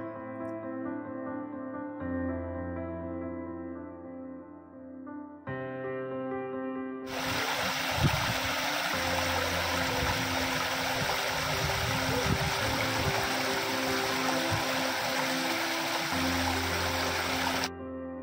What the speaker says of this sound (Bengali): এই জলের আওয়াজটা কি রিল্যাক্সিং, কি যে সুন্দর লাগছে